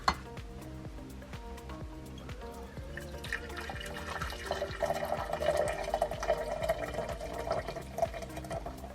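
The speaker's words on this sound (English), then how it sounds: "We're going to put a little bit of boiling water into my little coffee plunger here." Boiling water is poured into a small coffee plunger, a steady liquid trickle mixed with light clinks of glass and spoon, set against a background of music.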